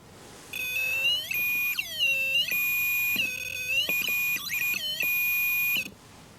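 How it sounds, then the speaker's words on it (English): A homemade REM pod style alarm gives out a series of loud electronic beeping bursts, several long tones with short breaks between them, in a quiet room with no talking. "So if anything decides it wants to sort of touch around the air or disturb the electric field, then it will set that alarm off."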